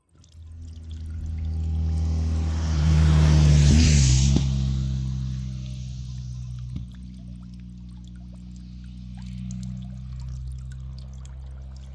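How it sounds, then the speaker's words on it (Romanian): Water from a mountain spring in the Austrian Alps pours steadily into a basin, swelling louder midway and then settling into a softer continuous trickle. "Peste tot în Austria găsim izvoarele astea."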